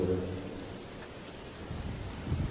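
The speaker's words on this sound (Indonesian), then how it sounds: "Sambil menunggu hujan reda" Rain falls steadily at night with a low rumble of thunder, a dense hiss of drops and deep rolling booms near the start and end, with no voices.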